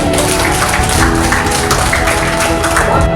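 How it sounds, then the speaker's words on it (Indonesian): A crowd at a village council election in Nagari Batu Hampa applauds in a steady, loud wash of clapping that does not let up, over a faint tonal hum. "Tepuk tangan Bapak Ibu"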